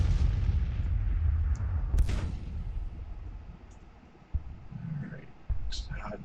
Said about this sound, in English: Let the artillery do their job. Well, as much as 8 Napoleon 12-pounders can do.